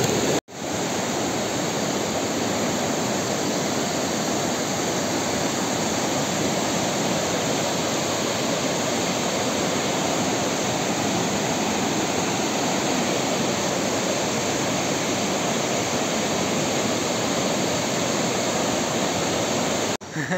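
Loud, steady rush of water roaring continuously throughout, a dense broadband wash close by with no pauses, like water cascading down a rocky mountain stream after rain.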